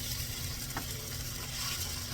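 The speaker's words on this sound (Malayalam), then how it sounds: "കുറച്ച് വെള്ളം ഒഴിച്ച് കൊടുക്കാം" Water hits a hot pan of chicken for Kerala biryani, producing a soft, steady sizzle with a faint stir, quiet and with no voices.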